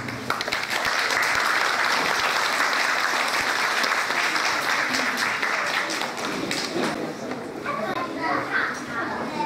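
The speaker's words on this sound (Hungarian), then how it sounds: "Fogadják nagy szeretettel és jutalmazzák sok tapssal a fellépőket." An audience at a school year-end celebration applauds the performers with sustained, dense clapping, loud and close, mixed with children's voices and chatter throughout.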